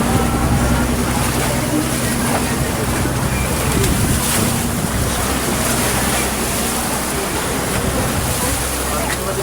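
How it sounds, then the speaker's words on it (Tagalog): A motorized outrigger boat runs at sea under its captain, its steady engine drone mixed with a constant wash of waves and wind rushing across the whole stretch, loud and unbroken. "So tatakbo na naman si Kapitan Nonoy. Saan kaya tayo rito dadalahin ang atang bangka?"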